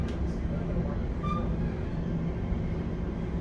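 An Arriva Rail London class 710 electric train running between stations, a steady low rumble and hum throughout with a brief faint squeal, heard from inside the carriage.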